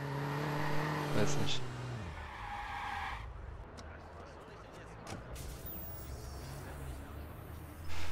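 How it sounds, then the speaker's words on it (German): Car engine and tires skidding in the video game Watch Dogs, a sustained screech and engine drone up front with brief bursts, under occasional short speech. "das Auto hört sich irgendwie komisch an"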